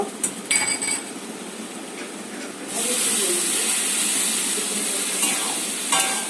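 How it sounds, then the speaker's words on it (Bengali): Cooked pasta drops into a pan of hot sauce, setting off a loud, steady sizzle and hiss. Softer stirring and clinking of pan sounds come before it. "আমি এখন পাস্তাটা এর ভিতরে ঢেলে দেব"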